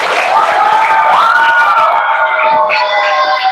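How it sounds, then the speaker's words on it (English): Sixth-grade students in a classroom debate competition cheer and shout for a debater, a loud, close crowd of young voices whooping with some clapping mixed in throughout. "Let's do applause for Mr."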